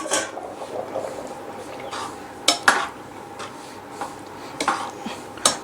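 A spoon stirs boiling beef biryani masala in a pot, giving a series of scraping clinks and knocks against the metal over a soft bubbling background, spaced irregularly and fairly close.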